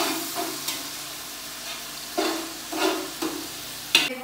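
Onions stirred while frying in a pot for degi chana pulao, with intermittent scraping strokes over a soft steady sizzle, close and moderately loud, no talking.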